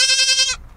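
A goat on a farm gives a single loud, close bleat, a short nasal tonal cry lasting about half a second before it cuts off.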